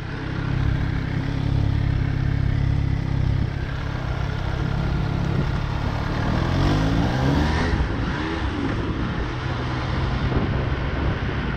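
An MV Agusta Brutale 800 motorcycle engine runs loudly and close, holding a steady deep rumble that swells slightly midway with a brief rising throttle blip, no voices present.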